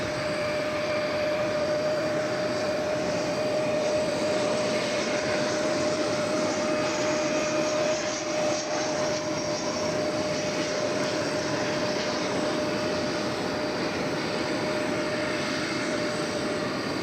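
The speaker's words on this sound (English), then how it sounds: "Got a flight coming in from San Antonio. It's an Airbus A319." An Airbus A319 jet arrives at DFW Airport, its engines a continuous loud roar with a steady whine lasting throughout as it passes overhead, heard alone without talk.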